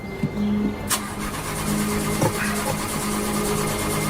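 A car engine struggling to start, with short cranking bursts and a sharp click amid a steady hum, fairly close and with no voices over it.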